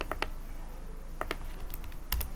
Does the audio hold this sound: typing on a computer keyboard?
yes